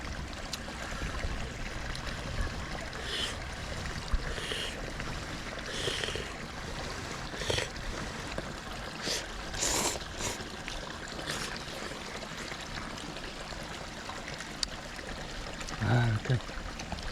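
Water trickles steadily over rocks in a mountain valley stream, a soft continuous burble with faint clinks and brief rustles near the end, no voices over it.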